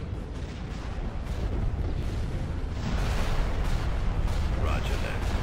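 Star Destroyer weapons fire during a space battle in Star Wars: Empire at War, heard as a dense, continuous rumble of booming blasts and explosions that swells louder midway.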